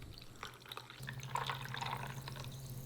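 Modelo beer poured into a michelada glass, giving a soft liquid pour followed by light, close fizzing and dripping that builds slightly toward the end.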